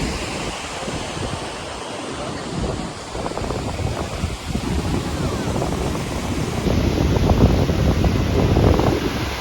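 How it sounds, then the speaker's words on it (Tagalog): Strong surf crashes steadily while gusts of wind buffet the microphone, making a dense, loud roar that swells toward the end. "lakas ng alon kasi ang lakas ng hangin. Daming alon."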